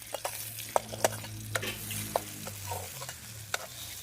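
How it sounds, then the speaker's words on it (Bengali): Brinjal slices frying in a pan: a continuous close sizzle broken by intermittent spatula clicks and scrapes, with a low hum underneath. "এখন আমি বেগুন ভাজছি"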